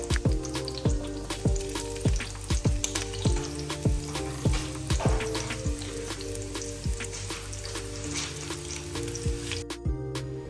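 Chopped onions sizzle loudly in hot oil as the base for party jollof rice, with a constant crackling fry broken by frequent sharp spatters and the scrape of stirring, close and with no voices.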